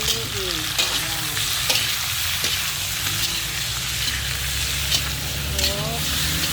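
Chicken fries in a pan for chicken curry as it is stirred, a loud constant sizzle with utensil scrapes and taps; a person speaks now and then over the cooking.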